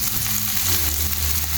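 Grated ginger-garlic paste sizzles in hot oil in a pan for an Konkani egg curry, a steady, dense frying hiss that fills the short stretch from start to finish with no voices.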